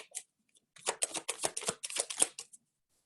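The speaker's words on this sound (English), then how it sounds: "So I'm gonna go ahead and shuffle Mercury into the deck here." A deck of tarot cards is shuffled by hand in a quiet room, a riffling burst of rapid papery flicks lasting a couple of seconds, close and fairly soft, with no talking.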